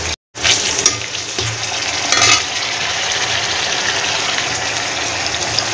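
Shrimp curry with chili added, frying in a pan on a gas stove, giving a loud, continuous sizzle with a brief clatter at the start and occasional stirring sounds.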